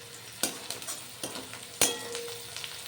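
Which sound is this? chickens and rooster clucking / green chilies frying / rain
green chilies frying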